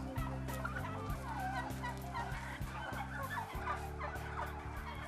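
Many 22-week-old breeder turkeys gobble together in a poultry house, a continuous dense chorus of overlapping gobbles and calls that stays steady throughout, with no voices.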